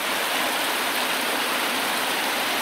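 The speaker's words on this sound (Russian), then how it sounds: "Вот он слив. Вода идет потихоньку." Water pouring through a pond spillway in spring, a loud, constant rushing hiss of flowing water close by, steady throughout with no voices.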